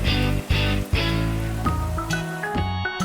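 Steady rain falls outside in a cartoon scene of a rainy day, a continuous patter mixed under loud, sustained music tones that change pitch every half second or so.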